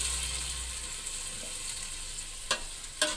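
Ground masala paste frying with vegetables in a pan, a steady soft sizzle that runs throughout, with a couple of sharp clinks of a utensil stirring near the end.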